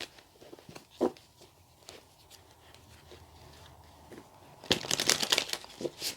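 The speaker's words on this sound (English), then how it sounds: "So let's just give the cards another shuffle." A deck of tarot cards is shuffled by hand at close range: a few soft flicks and taps come first, then a louder burst of riffling card noise near the end.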